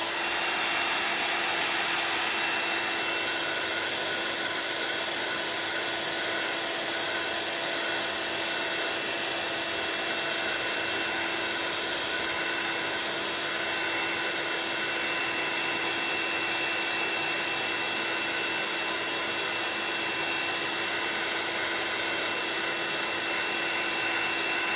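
Heat tool steadily blowing hot air over a craft project, a continuous loud fan whoosh with a high whine that holds evenly throughout, with no talking.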